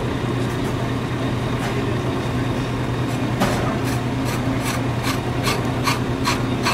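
A lathe cutting tool scrapes across a spinning car brake disc, making a steady harsh rasping grind with repeated brief scratchy bursts as the tool rubs the metal.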